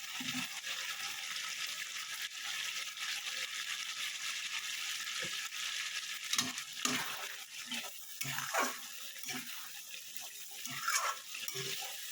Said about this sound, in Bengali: আলুটা দিয়ে ভালো করে নাড়াবো।